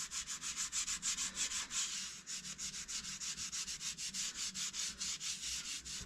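Steady rhythmic scraping across a metal surface on a John Deere 7520 tractor being fitted with a Mack PTO, repeated rasping strokes close and loud, about two per second, with no one talking.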